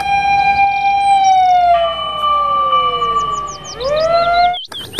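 A toy fire truck plays its electronic siren up close and loud, a wailing tone that slides down and then rises again in quick yelps before cutting off abruptly.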